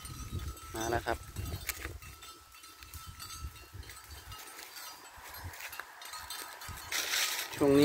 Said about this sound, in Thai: วันนี้ก็มาเลี้ยงวัวครับ